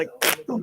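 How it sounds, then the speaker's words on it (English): A short, loud rasping burst from a fidget toy, with talking just before and after. "in case you're wondering what this is, that's a fidget toy."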